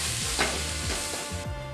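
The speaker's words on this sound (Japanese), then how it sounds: "炒めた豚肉にこの大量の野菜を加えてさらに炒め、" Steady loud sizzling of pork and a large amount of vegetables stir-frying in a hot pan, with scraping and tossing sounds as it is stirred.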